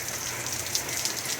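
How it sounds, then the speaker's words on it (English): Steady rain falls on a wet, puddled yard in the aftermath of Hurricane Ian, an even, dense patter of drops close by with no other sounds. "I think it's just going to start raining a bit more and more"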